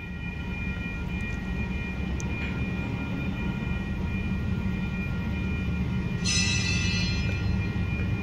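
A BNSF container train approaches a railroad crossing as a steady low rumble, with tonal hum, and a brighter burst of high squeal or horn-like tone near the end.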